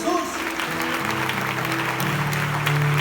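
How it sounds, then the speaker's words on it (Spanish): Congregation clapping during a Spanish-language church service, a dense sustained applause filling the space for about three seconds with a steady hum or music underneath. "Dale un fuerte aplauso al Señor Jesús"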